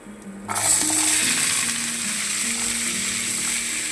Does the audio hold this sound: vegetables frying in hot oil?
yes